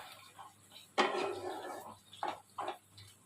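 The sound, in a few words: stirring potatoes in a pot after opening the lid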